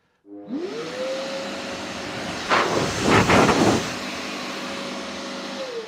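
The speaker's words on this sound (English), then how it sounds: "It's now a blower." A dust extractor with its hose plugged into the side port runs as a blower, a steady whining motor under rushing air, with louder gusts of blowing partway through before it settles back to a constant drone.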